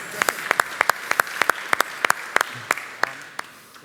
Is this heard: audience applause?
yes